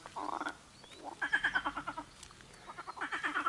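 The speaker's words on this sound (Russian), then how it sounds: "Послушайте пение квакш." Tree frogs call near a fishing spot on the Beloyarka, a rhythmic series of rapid croaking pulses in several bursts, fairly faint and alone.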